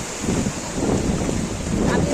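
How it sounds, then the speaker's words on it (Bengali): Ocean surf at Puri beach, a constant wash of breaking waves mixed with wind buffeting the microphone, close and fairly loud with faint voices in the background. "এই ঢেউ চলে আসছে।"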